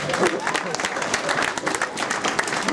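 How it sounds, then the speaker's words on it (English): A crowd applauds for a woman at a Halloween party comedy show: lively clapping close by, mixed with cheers and scattered voices, loudness rising and falling in uneven bursts. "Give her a big round of applause."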